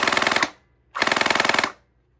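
A Nerf gel blaster, the Fire Warp Speed running on 7.4 volts, fires two rapid full-auto bursts, each a dense, loud rattle of shots lasting about half a second to a second, separated by a short silence.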